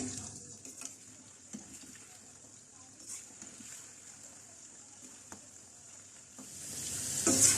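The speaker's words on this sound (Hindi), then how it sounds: "आहिस्ता आहिस्ता अब ये फ्राई होना शुरू हो गए हैं।" Velvet chicken balls frying in a wok over a medium-low flame, giving a faint, steady sizzle with occasional soft pops and clinks, and a brief louder hiss near the end.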